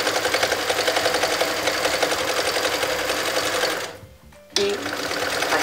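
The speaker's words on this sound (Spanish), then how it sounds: "Cuando empecemos a coser prendas, veréis que rematando la máquina cose hacia adelante." A sewing machine stitches through a small piece of fabric in a loud, fast, steady rattle, stops briefly, then starts again as it backstitches, with no talk.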